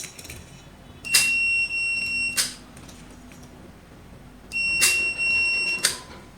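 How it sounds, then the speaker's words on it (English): Two pairs of short electronic beeps from a Tuya smart video doorbell keypad, each pair a crisp high tone followed by a second, close and clear over faint room noise. "Double short beep sound will be heard"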